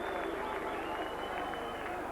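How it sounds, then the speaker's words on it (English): A large rugby league crowd at Knowsley Road applauds a try steadily at a distance, a dense wash of clapping and cheering that holds at an even level throughout. "the Knowsley Road fans applaud that"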